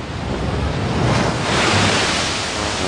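Rough ocean surf at sea, a steady broadband roar of breaking waves with gusts of wind buffeting the microphone, loud and continuous with no voices.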